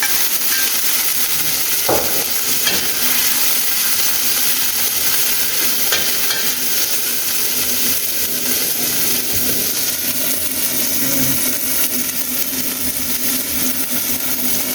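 Ginger sautés in a hot pan with a loud, continuous sizzle and spatter. A few stirring scrapes and knocks stand out early on, and no one speaks.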